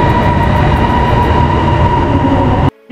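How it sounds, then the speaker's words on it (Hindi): An elevated metro train runs loud and steady in a sustained close rumble and whine, cutting off abruptly near the end. "ये इनके एलिवेटर और ये मेट्रो की ट्रेन"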